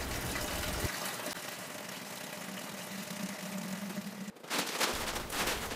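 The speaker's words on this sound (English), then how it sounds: "First things first, let's collect our water." Water for brewing a pilsner runs through a filter into a vessel, a soft steady gush with a low hum beneath it, briefly interrupted by a clunk before the flow resumes.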